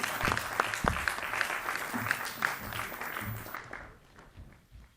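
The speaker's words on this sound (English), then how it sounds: "Another round of applause for that speech." A crowd at a sports awards event applauds after a speech, with full dense clapping for a few seconds that tapers off and fades out.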